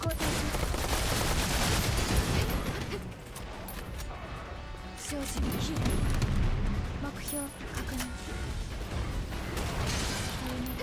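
Gunfire in the video game SoulWorker: a dense, continuous barrage of rapid shots and mechanical clatter, loud and sustained with brief lulls, under a voice talking.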